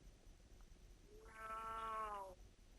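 A person imitating a cat: a single drawn-out meow, faint and alone, rising then falling in pitch over about a second.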